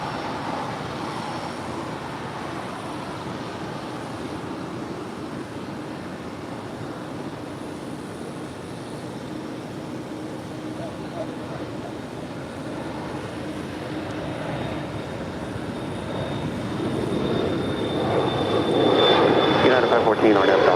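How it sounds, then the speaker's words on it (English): American Airlines Airbus A321 airliner arriving at Los Angeles International Airport, a steady broad jet roar that grows louder toward the end as it passes nearer, with airport background noise and some talk underneath. "That is American Airlines Flight 171 coming in from JFK."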